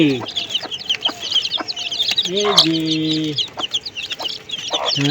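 Young chickens on a rooftop garden cluck and chirp repeatedly at close range, with a longer drawn-out call in the middle and some faint voices nearby.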